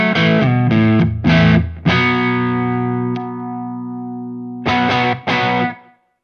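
An Ibanez S320 electric guitar runs through a Synergy BMAN preamp with the fuzz pedal off, giving slightly overdriven chords and a long ringing sustain, then two short stabs.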